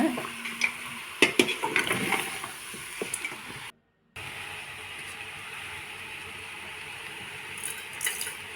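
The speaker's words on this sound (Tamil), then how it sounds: "நல்லா கலக்கி விட்டுக்கோங்க" Chicken with turmeric and chili powder sizzles steadily in a hot pan while a utensil scrapes and stirs, with a few sharp clinks early on, then continuous frying.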